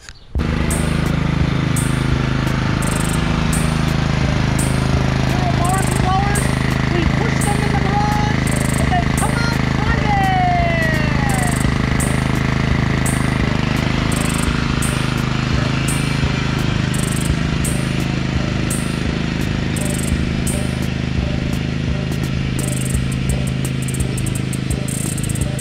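Repowered John Deere lawn tractor engine running loud and steady close by, with a half-melted muffler giving a rough, rapid chugging drone for the whole stretch.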